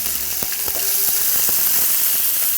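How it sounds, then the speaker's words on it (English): Chopped onions sautéing with cumin seeds in a pan for an Indian chicken biryani, a steady close sizzle broken by sharp crackles and pops throughout. "we're going to saute these onions until they're a light golden brown"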